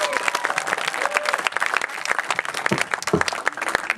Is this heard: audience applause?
yes